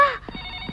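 A telephone rings indoors in a Telugu film scene: a short burst of bright electronic tones at the start, then a quieter sustained ringing tone with a few soft knocks beneath it.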